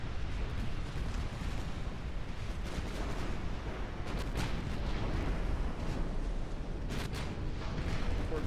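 Naval battle in a video game as a light cruiser goes down, a dense, continuous roar of rumbling explosions and gunfire with a few sharper bursts, loud and unbroken throughout.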